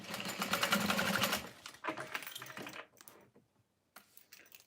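A sewing machine stitches a quarter-inch zipper seam on a fold-over bag, a rapid mechanical whir for about a second and a half, then shorter bursts of stitching with pauses and near silence.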